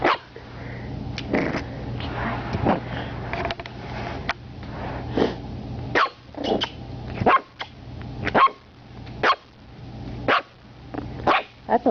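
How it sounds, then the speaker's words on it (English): A big dog barks repeatedly, loud and close, in bursts of sharp barks with short pauses, over a low steady hum. "That's a lot of barking."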